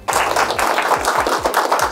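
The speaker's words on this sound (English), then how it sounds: "A round of applause." Live audience applauding at a community health talk event in Makueni County on blood transfusion; dense, continuous clapping that fills the whole two seconds at steady loudness, with a low rhythmic thump pulsing underneath.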